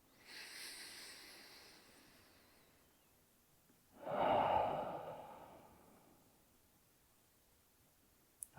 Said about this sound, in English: Inhale deeply. Open mouth, exhale.